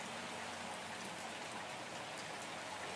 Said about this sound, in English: It's raining, unfortunately.